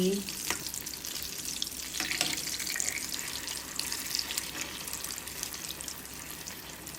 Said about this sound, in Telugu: మీడియం ఫ్లేమ్లో పెట్టి బాగా వేయించుకుంటే పూర్ణాలు రెడీ